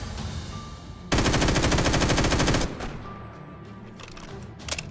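Rapid automatic gunfire from a sniper fight in modded Minecraft, a loud dense burst of shots lasting over a second, followed by quieter scattered game sounds and a short final crackle.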